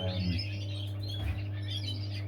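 Birds in a backyard aviary chirp and tweet close by, with brief calls over a steady low hum and no speech.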